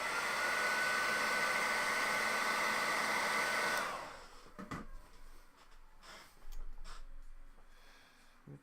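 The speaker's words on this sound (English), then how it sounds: "I think I'm gonna need to hair dry it" A hair dryer blows loudly and steadily on the paint of a Nurgle-themed chaos lord miniature, then cuts off after about four seconds, leaving quiet handling noises.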